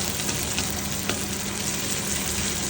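Onion sautéing in a pan for a salmon with bean sprouts and bell pepper dish, giving a steady, close broadband sizzle of frying that carries on evenly throughout with no talk.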